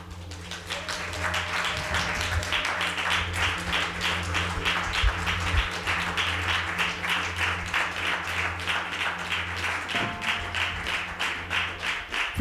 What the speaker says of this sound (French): Vous pouvez continuer d'applaudir pour accueillir Eva et Laura.